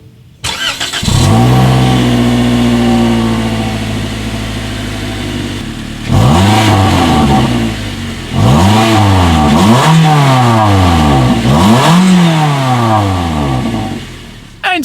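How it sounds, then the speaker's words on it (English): A 2019 Toyota Corolla engine revs through its single exhaust with a chrome tip: a steady idle, then a long climbing rev followed by several sharp, rising blips that fall away quickly, loud and close with no talking. "Here is that exhaust clip."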